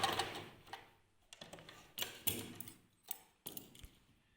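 Sewing machine stitching and backtacking a dress seam, short bursts of rapid mechanical clatter separated by pauses, close and fairly quiet.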